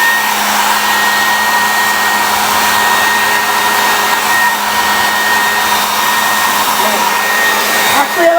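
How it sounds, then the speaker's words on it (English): A hair dryer blowing on high, a loud, steady whooshing roar with a constant motor whine, close by and uninterrupted. "the blow dryer will be on high"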